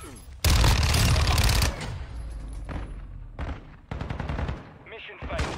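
Rapid gunfire in a shooter video game, a long loud sustained burst followed by shorter volleys and a few separate shots, with game sounds between the bursts.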